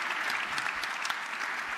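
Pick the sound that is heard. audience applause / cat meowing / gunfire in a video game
audience applause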